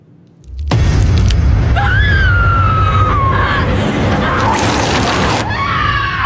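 After a moment of quiet, a woman's loud, sustained scream in a horror film erupts with crashing, chaotic noise and a sweeping wail behind it.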